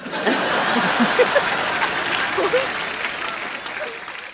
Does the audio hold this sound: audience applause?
yes